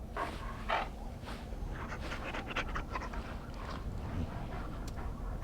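Banquo, a dog in the video game Dragon Age: Origins, pants steadily and rapidly up close, a continuous breathy rhythm running through the whole stretch with a faint whimper in places.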